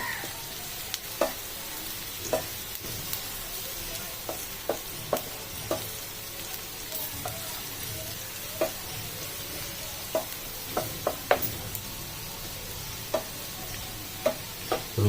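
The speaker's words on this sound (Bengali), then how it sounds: "এরপর চপ করে রাখা রসুনটি আর আদাটি এর মধ্যে দিয়ে দেবো" Chopped garlic and ginger fry in a pan as a restaurant-style crispy chicken starter is prepared. A steady, quiet sizzle runs throughout, broken by scattered sharp clicks and taps of a stirring utensil, with no voices.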